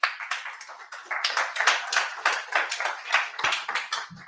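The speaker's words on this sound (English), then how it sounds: "A round of applause, please, for Catalin." Conference audience clapping for a speaker introduced on stage, a dense, steady patter of many hands throughout, fairly close and with no talk over it.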